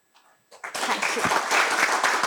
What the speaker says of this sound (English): Let us give her a big round of applause again.